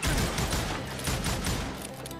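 Gunfire rattles in the Call of Juarez video game, a loud, dense volley of overlapping shots and booms crackling continuously at close range.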